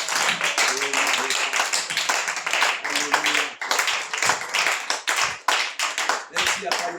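A church congregation claps and applauds in praise, rapid overlapping handclaps in loose bursts with brief pauses between them, close and lively, with voices calling out among the claps.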